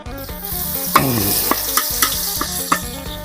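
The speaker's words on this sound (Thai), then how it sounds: "เราจะเจียวหอมก่อนนะครับเจียวหอมก่อน" Shallots frying in hot oil for a Shan-style Thai noodle dish, a steady close sizzle broken by repeated sharp clinks and scrapes of a utensil stirring in the pan.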